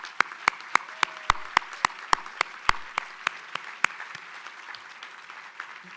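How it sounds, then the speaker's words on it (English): Applause at a volunteer awards ceremony honoring nonprofit staff, with loud distinct claps at first that thin out into a softer, scattered patter over six seconds. "Can we please give a round of applause for our extraordinary staff?"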